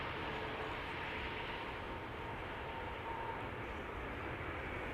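An Emirates Airbus A380 in special livery passes overhead near Amsterdam Schiphol as a broad, steady roar of jet engines, loud and sustained without fading, and no one speaking.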